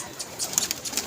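A pigeon coos softly a few times in a short, faint burst, with no other clear sound around it.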